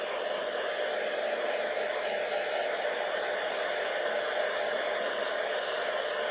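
Steady, continuous whoosh of a hair dryer held close, blowing over decoupage glue on a napkin-covered pumpkin, running alone without pause.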